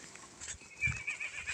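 A horse gives a short, faint neigh with a bit of rustling movement, brief and fairly close, with no talking.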